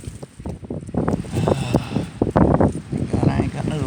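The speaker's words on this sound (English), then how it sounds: "This wind's getting on my nerves." Gusty outdoor wind buffets the microphone in rough, uneven surges while someone talks nearby at a work site.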